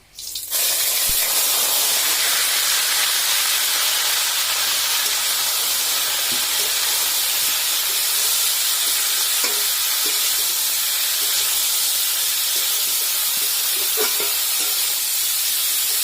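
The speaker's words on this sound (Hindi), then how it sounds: "अभी तेल देती हूँ मैं यहाँ पे कटहल फ्राई के लिए" Jackfruit fries in oil in a wok, a loud, steady sizzle and hiss that starts abruptly and keeps going for the whole stretch, with faint stirring knocks here and there.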